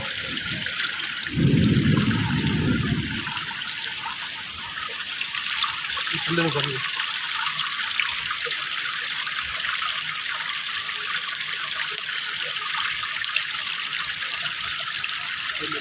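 Water trickles and splashes steadily close by from a rainwater harvesting setup, with a brief louder gush near the start and faint voices underneath.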